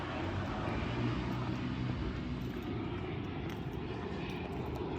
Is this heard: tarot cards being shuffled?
no